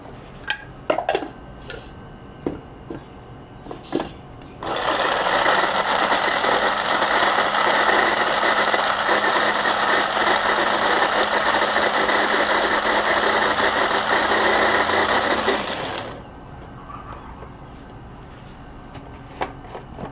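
An electric mixer grinder runs loud and steady for about eleven seconds, grinding green chillies and ginger fine, with a few clinks and taps before it starts and after it stops.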